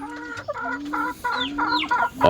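Hilly breed chickens cluck close by, a series of short rhythmic clucks and calls repeating in quick bursts, with a louder squawk at the end.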